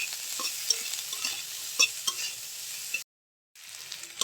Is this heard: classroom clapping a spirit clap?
no